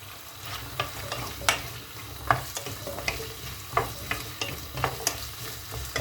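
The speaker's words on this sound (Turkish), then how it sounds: "Onları da şöyle bir salçamla beraber kavuracağım." Potatoes sauté with tomato paste, sizzling steadily in a pan while a spoon scrapes and stirs at irregular intervals, with sharp clinks against the pot.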